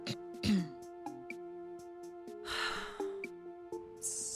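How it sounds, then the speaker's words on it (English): A character in the video game Dreamfall: The Longest Journey clears their throat with a couple of short, raspy, breathy rasps over quiet background music, followed by a soft sigh-like breath. "Just clearing my throat."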